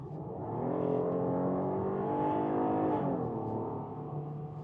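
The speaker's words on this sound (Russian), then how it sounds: "Средняя скорость, педаль в пол." A 2026 Hyundai Palisade accelerates from medium speed with the pedal floored. Its engine drone swells and holds steady under a smooth, continuous road rumble, with no voices.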